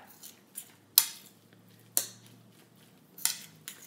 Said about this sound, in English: we put that egg inside the tuna like this. Doesn't that look better? And now we're just going to mix it up